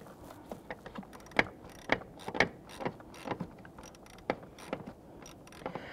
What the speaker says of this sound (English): we'll put our quarter inch ratchet down inside there and we'll tighten that down